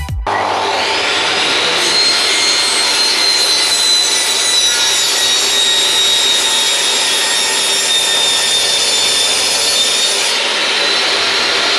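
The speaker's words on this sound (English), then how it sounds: "So there we go, a nice loud saw." Loud power saw cutting wood in a workshop building an escape room: a steady, harsh whining buzz that starts abruptly and runs unbroken for about ten seconds, close and alone, with no speech.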